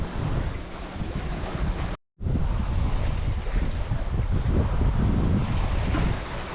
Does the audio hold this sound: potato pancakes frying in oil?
no